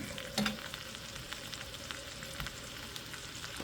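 Sausage, onions and potatoes seasoned with salt and pepper fry in a pan with a soft, steady crackling sizzle, one brief clatter near the start, close but fairly quiet and without voices.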